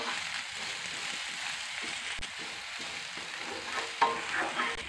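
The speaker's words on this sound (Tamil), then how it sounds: "வெங்காயத்தை நல்லா அந்த எண்ணெயிலே வதக்கி விட்டுறலாம்." Onions sauté in oil in a pan for Chettinad poori masala, a moderate, continuous sizzle with light stirring scrapes and a soft knock near the end, with no speech.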